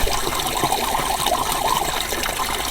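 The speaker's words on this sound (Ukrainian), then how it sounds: "Яка кришталева водичка, яка тече з глибини тисячоліть і не припиняє свій потік." Crystal-clear spring water flows steadily from an ancient source in a continuous, close trickling stream with no voices over it.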